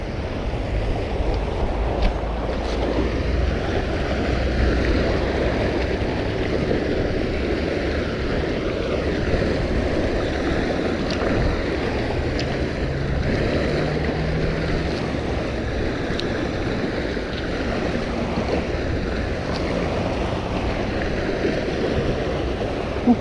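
Steady roaring rush of sea water and wind fills the scene, a constant loud churn of waves and strong current with no voices.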